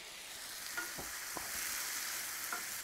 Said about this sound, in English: you want to cook these potatoes for about 15 minutes until they're just tender